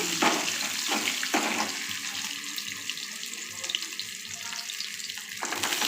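Okra hits a hot pan and fries with a steady sizzle and watery hiss after a few short clatters, close and fairly loud, no voices.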